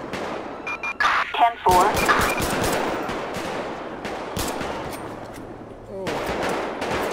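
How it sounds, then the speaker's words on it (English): Rapid bursts of automatic gunfire ring out in a police shootout in GTA V with the LSPDFR mod, loud and dense over several seconds. Someone shouts a radio call over the shots. "Dispatch, shots fired, shots fired!"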